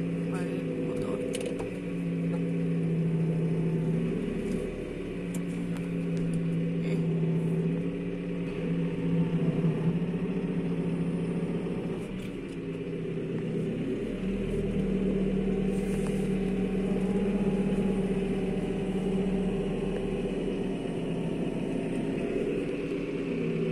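A tractor engine drives an umbrella-type shaker harvesting olives, a continuous low mechanical drone with steady whirring and slight rises and dips in load, heard close and unbroken throughout.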